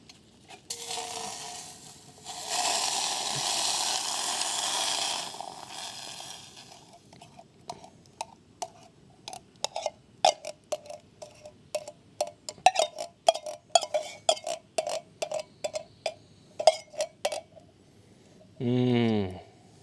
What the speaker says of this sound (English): Time for the beans to go in.